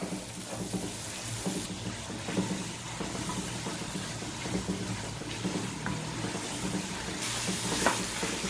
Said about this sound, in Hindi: और हम इसको फ्राई करेंगे अभी 2 मिनट और